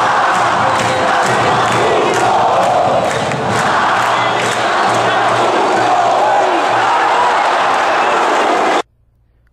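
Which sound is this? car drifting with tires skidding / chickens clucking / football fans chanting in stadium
football fans chanting in stadium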